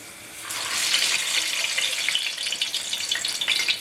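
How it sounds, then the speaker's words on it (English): Plantain slices sizzle in hot oil, a steady bright crackling fry that swells in the first second and carries on loud and close. "So now that your oil is hot, it's time to fry the plantain."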